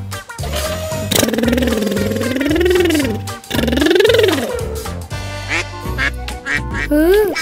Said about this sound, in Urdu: یہ بطخ ہے.